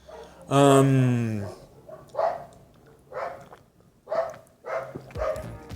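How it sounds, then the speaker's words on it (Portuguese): A neighbour's dog barks nearby: a long, drawn-out yelping bark is followed by several shorter, sharper barks at irregular intervals, and a few spoken sounds fall between them. "Perdão, o cachorro do vizinho latindo."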